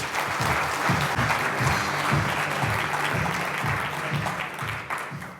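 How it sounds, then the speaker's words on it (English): An audience at a live business conference applauds a speaker coming on stage, dense steady clapping from a large crowd that swells and then begins to taper off. "Big round of applause."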